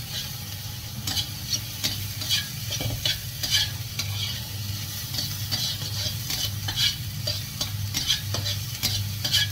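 Chinese fried rice is stir-fried in a pan. A spatula scrapes and taps the pan in quick, uneven strokes over a steady low sizzle. The sound is close and clear, and no one talks.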